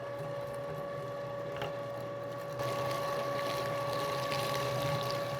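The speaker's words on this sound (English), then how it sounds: "Now we're gonna go ahead and grind up our fat to mix all of this together." A meat grinder works through pork or beef fat, giving off a steady, even mechanical whir with a constant motor hum that gets louder and busier halfway through as the load increases.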